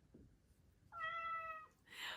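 A Chongker robotic toy cat meows in response, one clear, drawn-out electronic meow of about a second with a tonal, harmonic quality, heard close and alone, followed by a brief breathy sound.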